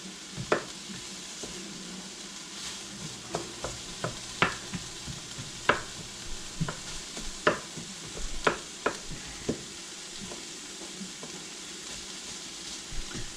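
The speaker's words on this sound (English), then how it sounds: "Let these onions get nice and soft." Onions sizzle and soften in a pan for a late Valentine's dinner, with a steady low frying hiss broken by sharp clicks and scrapes of stirring, close and fairly quiet, no talking.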